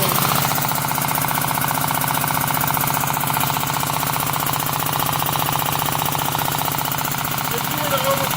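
A nitrous pump fills bottles for a turbocharged Subaru GC Impreza EJ18 build, its harsh rapid mechanical chatter loud, close and constant with no break.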